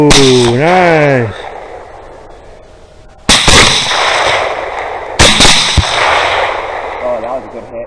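Rifle shots during feral hog control on a Texas cattle ranch, two loud, sharp cracks spaced about two seconds apart, each with a long echoing tail outdoors, after a short burst of voice at the start.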